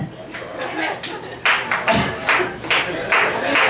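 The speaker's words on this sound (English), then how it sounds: "Oh, I get the slow clap for that." An audience at a comedy poetry set gives a few claps, loosely spaced and mixed with room noise and murmuring, building into a slightly denser patter near the end.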